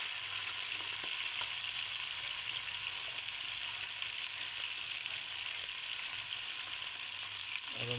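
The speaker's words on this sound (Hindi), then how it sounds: "अब हम इनको थोड़ी देर बाद पलटाते रहेंगे ताकि जो है ना ये सही तरह से फ्राई हो जाए।" Chicken drumsticks frying in a pan, giving a constant soft sizzle and bubbling hiss of hot oil, fairly quiet and steady with no voices.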